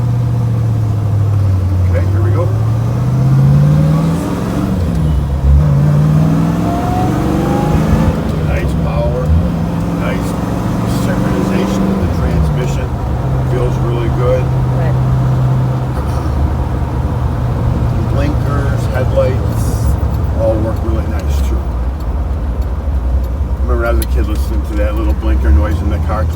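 A 1965 Chevrolet Corvette Stingray driving around the block, with a loud, close engine rumble that rises and falls through gear changes and runs continuously under people talking inside the car.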